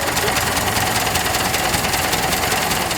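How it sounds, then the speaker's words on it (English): A 114-year-old REO car with a 225-cubic-inch F-head engine idles loud and close. It makes a steady, dense mechanical chatter with an even rhythmic pulse and no pauses. "It's a fantastic car with the F-head engine, 225 cubic inches, conservatively rated at 30 horsepower."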